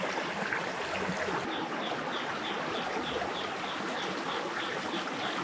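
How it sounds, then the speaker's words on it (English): Creek water in an Indonesian jungle flowing steadily, a continuous close rushing and trickling wash with no talk over it. "Alright, I'm back at the creek"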